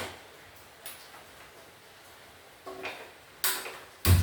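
A gas stove igniter clicks a few times to light the burner, the sharp ticks growing louder and closer together toward the end, with faint background hiss in between.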